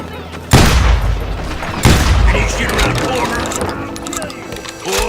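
Two heavy, booming gunshots in the Western shooter Call of Juarez: Gunslinger ring out about a second apart, each followed by a long echoing tail, with a voice speaking amid the reverberant town clatter.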